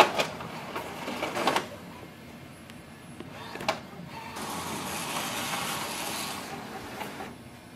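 An Epson WF-7820 inkjet printer runs a nozzle check page, whirring and clicking as the printhead shuttles, with a couple of mechanical clunks before a steadier feeding and printing hum.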